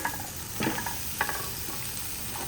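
Ridge gourd pieces fry in a little oil in a pan, giving a faint steady sizzle with a couple of soft stirring clatters; no talking.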